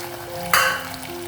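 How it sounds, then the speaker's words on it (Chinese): Fried chicken pieces and eggs drop into a bubbling sambal-style tomato sauce with sugar and are stirred, giving a brief swell of sizzle over a steady simmering hiss; no talking. "当酱汁煮滚后，就把刚才炸好的鸡块和鸡蛋加进去"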